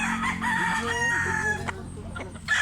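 A bulik gamecock rooster crows once, loud and close, its long wavering call rising and falling before cutting off to background noise and a quiet voice.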